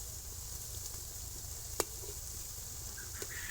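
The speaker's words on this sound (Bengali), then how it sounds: "এরকম লাল লাল করে সব বড়াগুলো আমি ভেজে নেব" A soft, steady sizzle of cauliflower-stalk fritters frying in oil, fairly quiet, with a single sharp click partway through.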